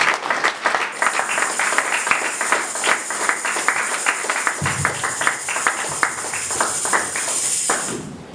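A church congregation applauding during a sermon, dense sustained clapping from many hands close and loud, with a steady high ringing tone joining partway through and a brief low thump midway.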